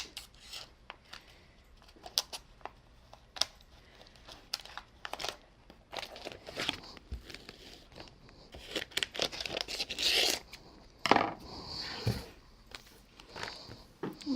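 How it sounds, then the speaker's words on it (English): Scissors snip and rustle through a piece of vinyl transfer tape in irregular close, crinkly bursts that grow louder toward the end. "going to take my transfer tape and cut a piece to cover it"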